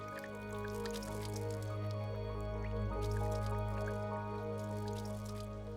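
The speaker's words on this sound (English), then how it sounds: "Watch what happens when I pour water on them." Water poured over the leaves of a taro plant, a soft continuous trickle and dripping with faint squishy splashes, close by and steady under a low background hum.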